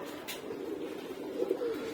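Soft, low cooing from a pair of pet doves, close by and fairly quiet, a steady murmuring coo running throughout with a faint higher click early on.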